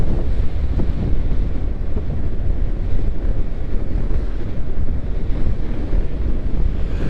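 Strong wind roars steadily against the rider on a motorcycle tour along the north coast highway, a dense, buffeting rumble close to the microphone with no voices.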